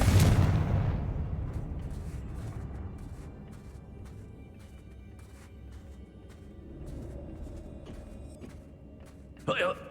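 A fiery blast spell explodes in the Hogwarts Legacy video game, a heavy booming burst at the start that decays into a rumbling rolling tail, followed near the end by a brief crackling pop.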